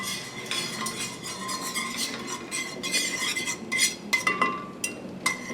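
Metal utensil scraping and clinking against a steel pan while egg yolks are broken up for banana pudding, a run of quick irregular taps and scrapes, close and moderately loud, with no talking.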